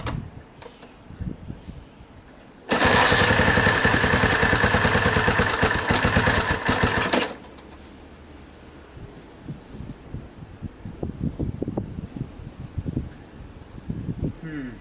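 A Honda CB250RS motorcycle engine idles unevenly, bursts into a loud roar when throttle is applied for several seconds, then falls back to a faint stumbling, ticking idle as it dies.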